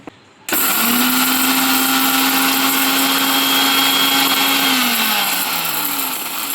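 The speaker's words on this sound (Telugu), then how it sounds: "ఇప్పుడు వీటిని మిక్సర్లోకి వేసుకుందాం." Electric mixer grinder blending roasted ajwain, cumin and fenugreek seeds, starting abruptly after a brief quiet moment and holding a loud, steady high-pitched whine and roar for several seconds, easing slightly near the end.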